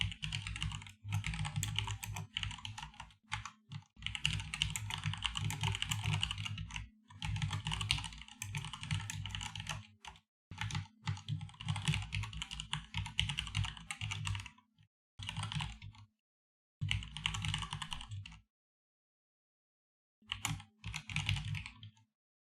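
Java code is typed on a computer keyboard in quick, close key clatter. The typing comes in bursts of several seconds, separated by short pauses and a few longer silences, with no voices.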